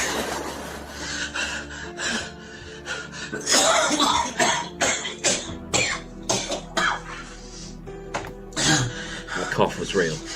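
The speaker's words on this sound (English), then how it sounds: "cough was real." Several short, harsh coughs burst out amid loud, agitated voices, close and forceful, with gasps and throat noises between them.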